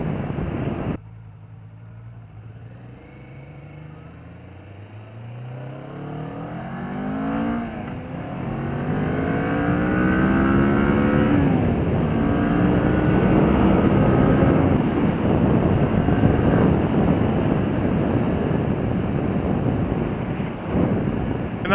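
A 2015 Kawasaki Vulcan S cruiser motorcycle accelerates at wide open throttle, its engine note climbing steadily in pitch under heavy wind rush at the microphone, then holding a loud roar.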